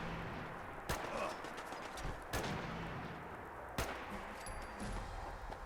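Sharp gunshots crack in Fallout 4 gameplay, three separate shots spaced over several seconds against a low, rumbling ambient background.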